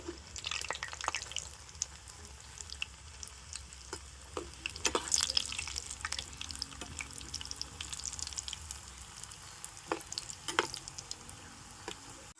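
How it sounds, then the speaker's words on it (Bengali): Lentil fritters (bora) frying over low heat in a pan, a soft, faint sizzle with occasional scrapes and clinks as they are turned, quiet and steady with no talk. "হালকা জাল দিয়ে বড়াগুলোকে উল্টে পাল্টে সুন্দর করে ভেজে নেব"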